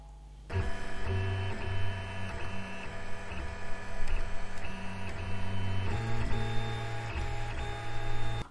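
A 3D printer printing a powerbank case starts up and then whirs steadily with tonal stepper-motor hums and shifting pitches, fairly close and continuous, with no talking.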